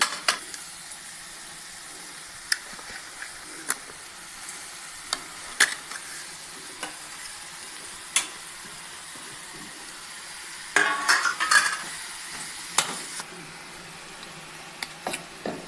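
Pumpkin halwa cooking with jaggery in a pan, a spoon stirring through the thick mixture with soft scraping and faint sizzling, punctuated by occasional sharp clicks of utensil against the pan rim, close and moderately quiet with no talking.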